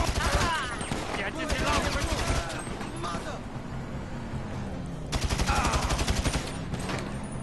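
Gunfire crackles in Grand Theft Auto 5 as rapid, loud bursts of shots, with a dense volley at the start, quieter scattered shots in the middle and another heavy burst near the end.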